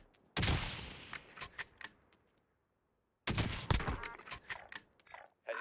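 Bursts of gunfire from a shooter video game, a rapid volley of shots with sharp cracks, a pause of silence, then another dense stretch of firing, fairly loud and close.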